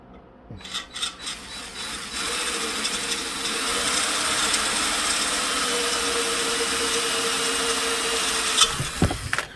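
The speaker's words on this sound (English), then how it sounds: "Just going to re-drill these." A drill bores out old rivet holes in a McCulloch Super Pro 70 chainsaw, making a steady grinding, rasping whine that runs continuously for several seconds after a few short starts, close and fairly loud.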